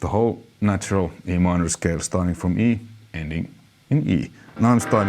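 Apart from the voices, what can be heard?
No everyday noises stand out.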